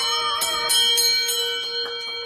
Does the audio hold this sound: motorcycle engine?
no